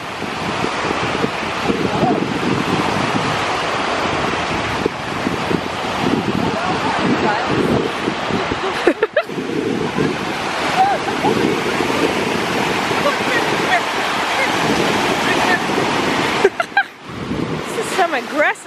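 Ocean waves surge and crash steadily on a windy beach, a loud, continuous wash of surf with heavy wind rumble on the microphone and faint voices under it.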